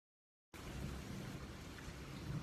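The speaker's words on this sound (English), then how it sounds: "It's all thundery, and it's raining" Steady, dense rain pours down outdoors during a thunderstorm, with low rumbling underneath. It starts abruptly after half a second of silence and holds at an even, close, loud level with no talking.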